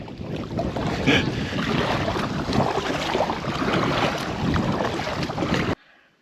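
Strong wind storm roars and buffets the microphone steadily for several seconds at a lake or river kayak outing, then cuts off abruptly into near silence.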